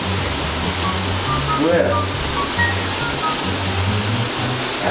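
A shower runs steadily in a bathroom as a loud, constant hiss of spraying water, with a voice speaking briefly over it.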